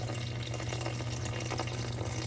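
Warm water running steadily from a kitchen tap into a bowl for a basic sourdough loaf, a continuous close splashing flow with no talk.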